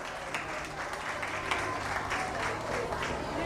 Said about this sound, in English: So give all the participants a round of applause.